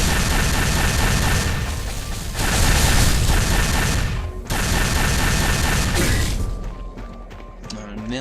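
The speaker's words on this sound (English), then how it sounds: "gave the player an actual weapon, so now there's like a nice little firefight across the ravine" Gunfire in a video game firefight across a ravine, a dense, loud, continuous barrage of booming shots and crashes that briefly dips and then resumes before thinning out toward the end.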